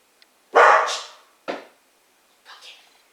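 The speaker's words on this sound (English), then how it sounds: "Sorry for the dog." A nearby dog gives three barks: a loud opening bark, a shorter second bark, and a quieter third one, with silence in between.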